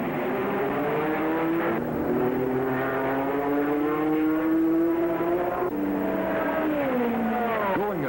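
Ford GT Mark II race cars at the 1967 Le Mans 24-hour endurance race, loud engines roaring and revving as they pass, shifting through gears with rising and falling pitch, alone without talking.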